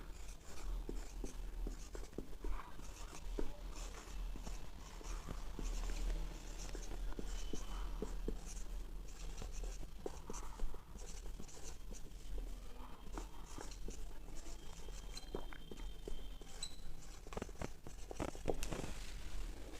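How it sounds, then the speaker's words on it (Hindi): Pen writing notes on paper during a lesson on the digestive system, soft continuous scratching with small taps and strokes, close and quiet over a low background hum. "तो सबसे पहला पॉइंट ये लिख लेते हैं।"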